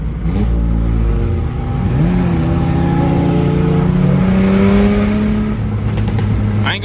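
Car with newly installed aftermarket headers revving hard, engine pitch climbing steadily through the gears into high RPM, loud and close from inside the cabin.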